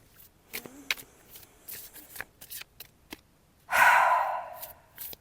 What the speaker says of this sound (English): I'm just going to shuffle for a minute here since this is a brand new deck